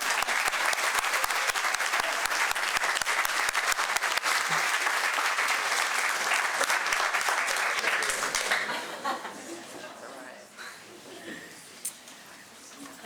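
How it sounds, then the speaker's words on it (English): Loud, dense audience applause at a community foundation recognition awards ceremony, sustained for about eight seconds before thinning out into scattered claps and quieter room noise. "Please give a round of applause for Ned."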